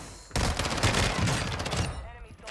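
Rapid bursts of MP7 submachine gun fire with suppressed rounds in a video game, a dense stream of shots kicking in abruptly after a quiet start and fading out near the end.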